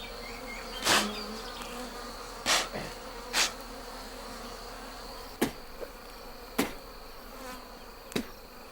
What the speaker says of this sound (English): In spite of the smoke, the bees are still lively and fight to defend their nest.